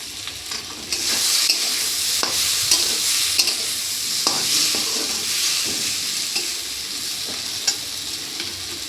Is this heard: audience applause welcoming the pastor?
no